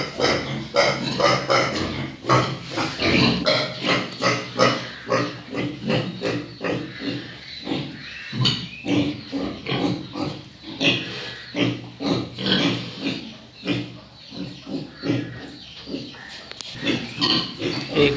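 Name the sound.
pigs grunting on a farm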